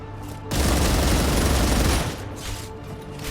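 Automatic gunfire in the Star Rupture video game, a loud sustained burst of rapid shots lasting about a second and a half, followed by quieter rumbling echoes.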